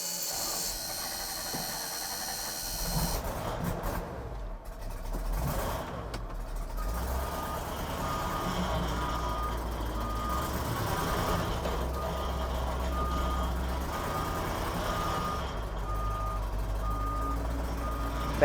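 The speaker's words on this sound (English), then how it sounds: "Backup alarm is wild though" A Ford F700 truck's backup alarm beeps steadily over a rumbling engine and hiss, continuing throughout without talk.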